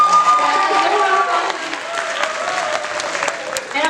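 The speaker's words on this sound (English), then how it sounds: "Give yourselves a big round of applause" An audience applauds at the close of a student night production of dance and performance, steady clapping and some cheering filling the hall with a voice faintly mixed in.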